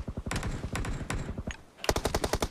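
Rapid automatic gunfire in a battle royale video game during a last-zone fight, heard as two dense bursts of evenly spaced shots separated by a brief lull, loud and close.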